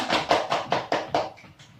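Students in a classroom clap together in a steady unison rhythm, about eight sharp, evenly spaced claps close by, fading slightly at the end, with no talking.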